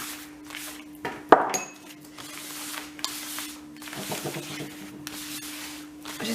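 A deck of playing cards being cut and shuffled, soft riffling and rubbing with a sharp snap near the start, close and fairly quiet against a faint steady hum.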